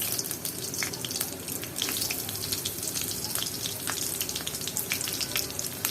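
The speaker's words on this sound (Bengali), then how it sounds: "কিছুটা সময় ভেজে নেব, বাদামি কালার হোক।" Chopped garlic and onion fry in soybean oil in a pan, a continuous close crackling sizzle with dense small pops throughout, no talk.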